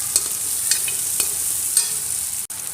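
Onions frying in hot oil in a pan for a Tamil tamarind curry, a steady loud sizzle with a few light scraping stirs and one brief dip near the end.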